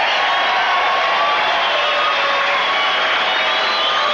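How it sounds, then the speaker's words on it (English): A boxing arena crowd roars together for Benny the Jet Urquidez in his bout with Yoshihisa Tagami, a dense, steady wall of cheering and shouting that holds for the whole stretch without letting up. "The crowd roars as one for Benny the Jet."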